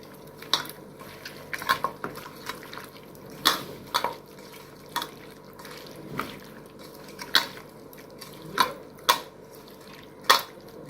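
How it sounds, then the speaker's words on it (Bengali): Mutton pieces being hand-mixed with salt and spices in a metal pot: wet squishes and irregular clinks against the pot, up close, with no voices. "মাংসটাকে এবার আমি সুন্দর করে মেখে নেবো"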